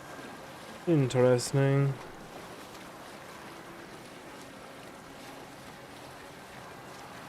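Gentle water laps and washes steadily against the hull of a Viking ship on a river in Assassin's Creed Valhalla, a soft, continuous wash with a single spoken word near the start.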